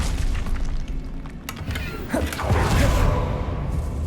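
Confringo fire spells from Hogwarts Legacy strike with muffled booms and creaking, thudding impacts, a louder blast swelling in the second half amid rumbling debris.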